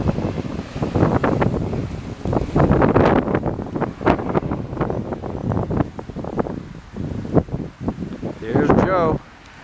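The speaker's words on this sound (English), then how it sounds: "It's really windy." Strong wind buffets the microphone outdoors in heavy, irregular gusts that roar and subside, with someone talking intermittently under the noise.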